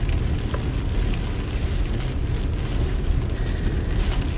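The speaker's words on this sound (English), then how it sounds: "It's windy and it's warm out and it's raining." Continuous wind and rain from an approaching Hurricane Ian in Florida, a dense hiss with low gusty rumble, steady and fairly loud throughout with no talking.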